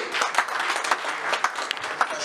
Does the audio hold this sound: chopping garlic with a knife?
no